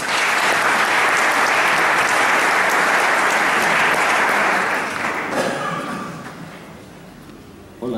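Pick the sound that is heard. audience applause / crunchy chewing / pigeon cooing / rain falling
audience applause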